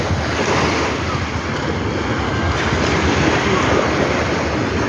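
Sea waves washing onto the shore at a beach in Bataan, Philippines: a steady, dense roar of surf close by, with wind buffeting the microphone throughout and no distinct breaks between swells.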